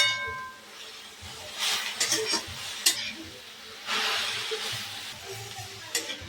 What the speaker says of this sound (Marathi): हे बघा, शेंगदाणे टाकून हलवून घ्यायचं।